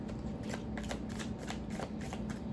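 A deck of tarot cards is shuffled up close, a quiet run of rapid riffling flutters in several quick bursts with no voices.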